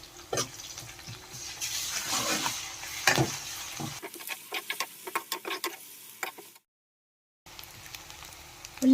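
Onions fry with ginger-garlic paste and turmeric in a pan, giving a continuous close sizzle broken by scraping stirs and light utensil taps, with a short silent gap near the end.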